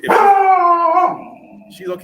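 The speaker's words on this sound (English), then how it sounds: "Get Kylo to calm down, barking at the neighbors." A dog named Kylo lets out one loud, drawn-out howling bark at the neighbors, close and sustained for about a second before trailing off, followed by a softer yelp.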